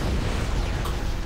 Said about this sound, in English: They survived the explosion.